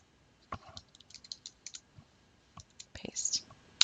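Numbers are typed on a computer keyboard in a quiet room, a sparse run of close, crisp key clicks with uneven gaps, ending in a quicker cluster of taps.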